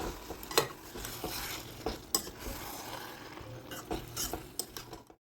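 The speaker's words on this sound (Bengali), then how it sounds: "আবার একটু নেড়েচেড়ে মিশিয়ে দেব" Cabbage and potato curry is stirred in a pan with a quiet sizzle underneath and repeated scraping strokes and metallic clinks of the spoon against the pan, close and fairly soft.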